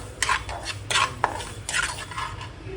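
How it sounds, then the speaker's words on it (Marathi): Barnyard millet (varai) being dry-roasted in a heated pot, with a utensil scraping and stirring the grains in intermittent strokes, soft scratchy rustles close by. "आता आपण परत ह्याच्यामध्ये वराई टाकूया आणि भाजून घेऊया।"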